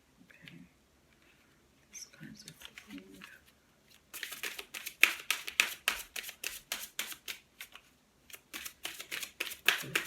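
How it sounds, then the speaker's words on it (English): Tarot cards being shuffled and flipped, quiet rustles early on, then a dense run of crisp, rapid riffling snaps, close and fairly soft, with brief soft speech at the start. "These cards are flipping."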